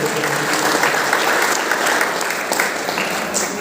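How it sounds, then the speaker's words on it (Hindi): Loud, sustained audience applause on a quiz show stage, a thick continuous roar of many hands clapping at full volume from start to finish. "जोरदार तालियां बजाएं"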